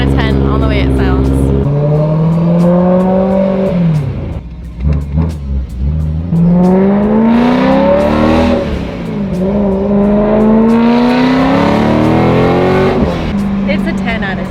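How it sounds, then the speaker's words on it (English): A BMW E92 M3 fitted with a VF650 supercharger revs its engine, the pitch climbing and falling in several sweeping pulls with a short dip between them, loud and close, while people talk over it. "Up next, E92 M3 with a VF650 supercharger."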